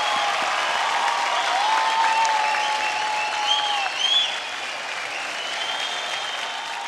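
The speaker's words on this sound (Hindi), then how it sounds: "जी जी जोरदार तालियां." Sustained, loud applause from a studio audience at a televised singing competition show, steady clapping throughout with a brief swell of cheers near the middle.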